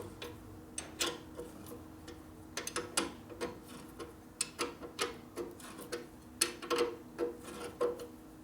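A ratchet clicks back and forth in short irregular bursts, close up and fairly quiet, loosening the pinch bolt on the axle of a 1957 Harley-Davidson panhead drag bike.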